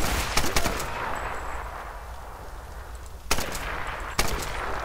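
Bursts of AK rifle gunfire in the video game Tomb Raider, a rapid volley at the start followed by two more sharp shots later, over a low steady game background.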